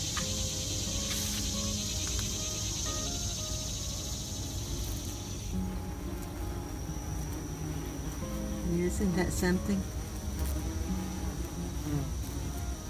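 Many bees buzz steadily and densely close by around crepe myrtle flowers, a continuous drone, while a person briefly speaks over it.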